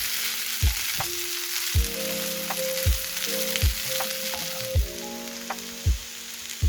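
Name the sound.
shark pieces sautéing in a pan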